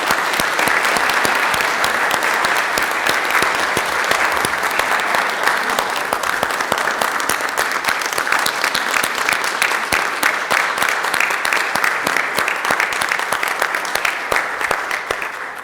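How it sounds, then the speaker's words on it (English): Sustained applause from an audience at an Anacortes city council meeting, a dense, steady wash of many hands clapping at close range for about fifteen seconds, tapering slightly at the very end. "All right, one more round of applause."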